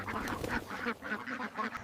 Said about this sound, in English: These ducks won't stay here.